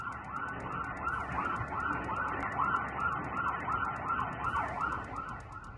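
An ambulance siren wails continuously on a flooded street in Chennai during Cyclone Michaung, its repeating rising-and-falling cycles steady and loud over a rushing wash of water and traffic noise.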